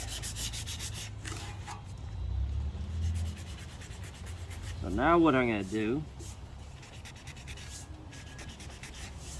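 Steady scratchy rubbing of 80-grit sandpaper against paint on a metal motorcycle tank, continuous and close, with someone speaking briefly partway through.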